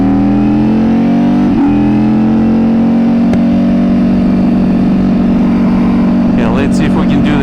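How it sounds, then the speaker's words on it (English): A Ducati Panigale V4 motorcycle engine idles loud and steady up close, a deep continuous rumble with a brief blip of revs near the start and a rising throttle swell toward the end. "Whatever you do, it idles loud."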